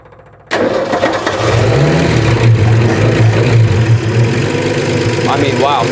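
A Ford F100 pickup with a swapped engine cranks and catches abruptly, then settles into a loud, steady rumbling idle with slight revving, heard up close while a voice speaks briefly near the end.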